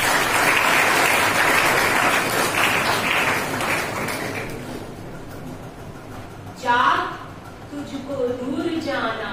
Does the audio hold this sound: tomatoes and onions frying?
no